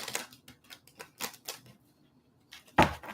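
Soft, quick riffling and tapping of tarot cards being shuffled close by, in short irregular bursts with a sharper snap near the end.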